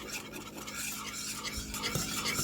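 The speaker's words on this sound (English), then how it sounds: "Stir really well" Steady scraping and swishing of a spoon stirring liquefied strawberry Jello in a pot, a continuous close texture with no voices.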